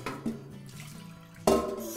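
Fresh water runs into a container for rinsing a paintbrush, a soft splashing stream that surges louder near the end, close and alone.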